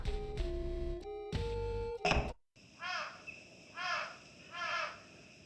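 Crows cawing in a Halloween video game: a burst of tonal game noise cuts off, then three harsh, evenly spaced caws ring out over a quiet insect-like background.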